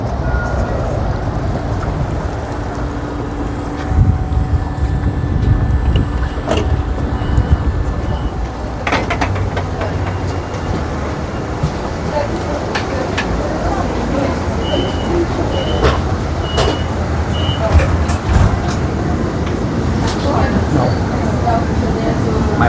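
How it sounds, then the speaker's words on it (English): Electric city bus on route 288 in Sofia, Bulgaria, heard from inside: a steady low drive hum and road rumble with rattles and occasional clunks throughout, while a person talks over it. "It looks like it's an electric bus."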